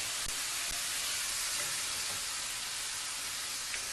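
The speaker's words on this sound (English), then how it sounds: "We'll go ahead and let that saute a little bit." Food sautéing in a hot pan while mushrooms are readied for stuffing, giving a steady close sizzle and hiss that holds evenly throughout, with a few faint clinks underneath.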